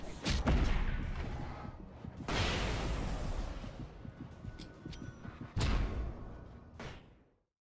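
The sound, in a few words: gunshots in the video game Alan Wake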